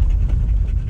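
A smaller dog pants steadily in rapid, close breaths, a continuous loud huffing rhythm with no talk, heard near a tomato garden.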